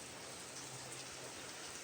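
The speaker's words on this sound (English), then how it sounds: "You can hear the rain on this metal roof" Rain drumming on a metal roof, a constant soft hiss of drops that stays even and fairly faint from start to finish, with no voice over it.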